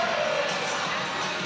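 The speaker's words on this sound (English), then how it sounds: "It's so loud in here, too. The crowd is so energetic." Loud, energetic crowd at a college gymnastics meet, a dense wash of cheering and shouting voices that holds steady and fills the arena without a break.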